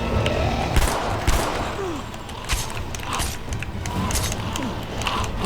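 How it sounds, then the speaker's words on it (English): A shotgun fires in The Walking Dead Survival Instinct, several sharp reports spaced a second or so apart over a murky, creaking background. "I could unload right now with the shotgun"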